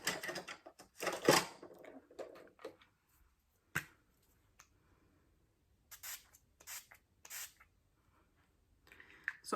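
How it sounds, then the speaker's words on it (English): All-nighter makeup setting spray is misted in several short, close hisses, clustered together with quiet gaps between them. Other small handling clicks and rustles come earlier. "I'm just gonna use my all-nighter setting spray quick."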